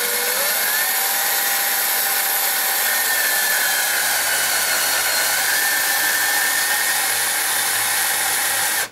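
A power screwdriver drives a long screw in with a steady, continuous high whine that holds for several seconds and cuts off sharply at the end. The work is part of replacing switches, and no one talks.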